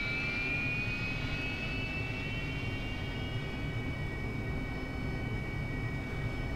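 An AV-8B Harrier's jet engine idles in the DCS flight simulator, a constant loud roar with a thin high whine that glides slightly lower, steady and unbroken throughout, with no voices.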